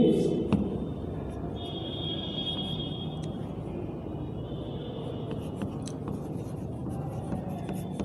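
Chalk or marker strokes on a board during a Class 8 maths lesson on mensuration, a steady dry rubbing scratch with brief squeaky accents, fairly close, over a low room rumble with no clear talk.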